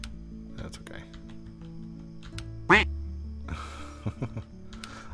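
A single bright duck quack rings out from the Roblox game Lumber Tycoon 2, sharp and close over a steady low background hum, followed by fainter game noises.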